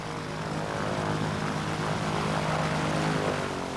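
A propeller airplane arrives at a village airstrip in Kayapo territory, its engine producing a steady, loud droning roar with a tonal hum throughout, close and continuous with no talk.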